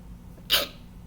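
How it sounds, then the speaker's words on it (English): A single sharp sneeze bursts out, loud and close, with a quick breathy onset and short tail, surrounded by quiet. "I'm gonna sneeze again."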